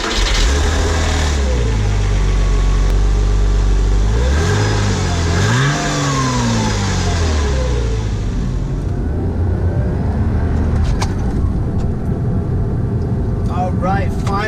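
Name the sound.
1998 Porsche Boxster engine accelerating on a drive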